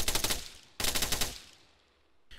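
Rifle gunfire with a suppressor attachment in the Arma 3 military game with the ACE mod: two rapid automatic bursts of sharp repeating shots, each about three-quarters of a second long, with a fading tail. A third burst begins at the very end.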